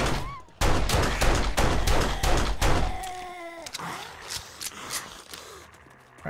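Pistol fire against a zombie horde in 7 Days to Die, a fast string of loud close shots for a few seconds, then sparser single shots mixed with growling creature noises.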